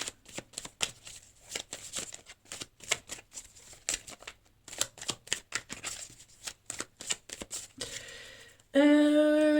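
Tarot cards shuffled by hand in a quick run of crisp riffling bursts, close and clear, ending with a brief tonal chime-like sound.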